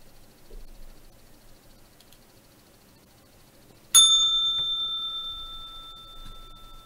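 A single bell struck once at the opening of a live futures and crypto trading session, ringing out loud and clear, then decaying slowly over several seconds above a quiet background.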